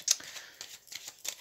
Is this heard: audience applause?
no